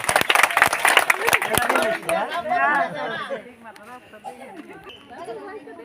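An audience at a blindfold-style prize challenge game claps together in a quick burst of sharp hand claps for about two seconds, followed by a person talking.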